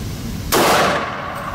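A single sharp report from a compact single-stack Smith & Wesson M&P Shield pistol in .40 S&W, loud and close with a broad burst that rings and fades over about a second, with no talk.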